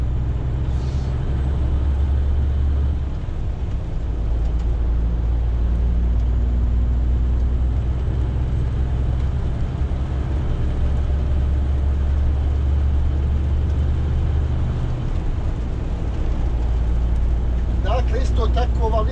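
Heavy truck cruising on a highway toward Šipovo, its low engine drone steady and loud throughout, with a brief air-brake hiss and a rising tonal whine near the end.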